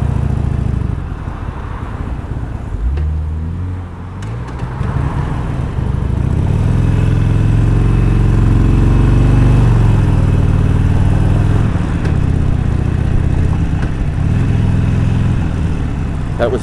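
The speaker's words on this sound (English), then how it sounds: "That was me starting uphill in second gear. The bike did okay, but I really had to rev it." A motorcycle pulls uphill in second gear on Laurel Canyon in Los Angeles, its engine rising from a low rumble into a sustained, loud, strained rev that holds steady before easing slightly.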